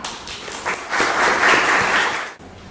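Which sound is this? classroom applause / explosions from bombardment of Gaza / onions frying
classroom applause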